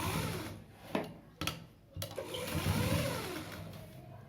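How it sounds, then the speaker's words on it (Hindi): A sewing machine stitches a 34-inch belt blouse in short bursts, its motor whirring close by with brief pauses and restarts between runs. "ऐसे हम दूसरी तरफ भी सिलाई लगा लेंगे।"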